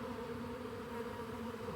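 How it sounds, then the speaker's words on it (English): Honey bees buzz steadily around a hive frame covered in capped brood, a dense, continuous drone close by with no break. "I keep killing bees. It's not a good thing when you kill bees, because that's what makes them upset."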